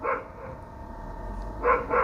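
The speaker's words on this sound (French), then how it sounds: "je ne sais pas pourquoi ce chien n'arrête pas d'aboyer" A dog barks in the distance, two or three short bursts at the start and end with quieter background between, no talking over it.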